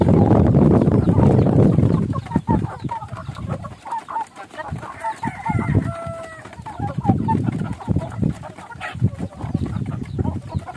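Pet chickens on a barangay homestead in Dayo-an cluck and call close by, with a rooster crowing partway through over a steady backdrop of farmyard noise.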